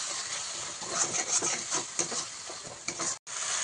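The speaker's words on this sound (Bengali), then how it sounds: "ধনে জিরে বাটা, টমেটো বাটা দিয়ে দিলাম, দিয়ে ভালো করে মশলাটা কষাতে থাকবে" Ground coriander-cumin paste and tomato paste sizzle and fry in a pan for chicken gravy, with stirring scrapes over a steady hiss, close and moderately loud.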